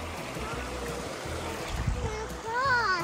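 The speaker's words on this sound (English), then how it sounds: "we're on our way back and the water's still here, Frank." Flood water running across a path, a continuous rushing trickle and splashing close by, with people and someone talking over it.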